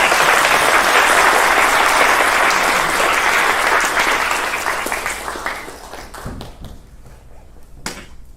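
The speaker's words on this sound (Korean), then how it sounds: "권순석 병원장님께 다시 한번 뜨거운 박수를 보내주시기 바랍니다" Loud, dense applause from an audience at a hospital director inauguration and farewell ceremony at Catholic University of Korea Bucheon St. Mary's Hospital, sustained for several seconds before thinning into scattered final claps.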